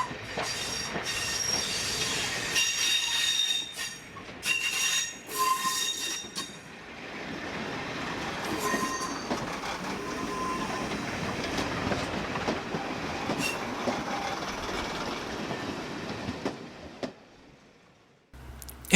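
A diesel multiple unit train runs along a heritage railway, wheels rumbling and clacking with occasional metallic squeals, steady and fairly close before fading away near the end.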